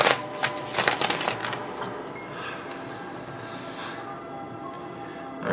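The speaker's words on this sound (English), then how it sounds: "I don't know why I wanted to shuffle it differently that time." Tarot cards are shuffled close by, with a quick burst of riffling cards at the start that fades into quieter handling and soft rustling.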